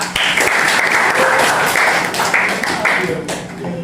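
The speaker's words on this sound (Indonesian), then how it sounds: "Oke, tepuk tangan buat Saka." A high school class applauds a student, dense sustained clapping from many hands filling the room, fairly loud, with voices murmuring underneath.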